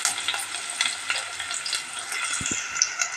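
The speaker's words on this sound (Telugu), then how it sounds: "మంచి ఎర్రగా వేయించుకుందాం" Onions frying in a pan for vadala pulusu give a steady, close hiss of sizzling oil with light stirring scrapes throughout, and no voices.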